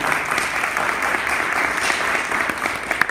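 Audience applause at a celebration for a teacher, a steady round of many hands clapping at moderate distance with a few louder claps near the end.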